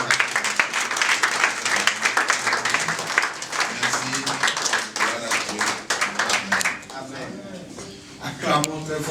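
A church congregation at a gospel service applauds loudly and steadily, the dense clapping carrying through the whole stretch before thinning toward the end, with voices and shouts mixed in.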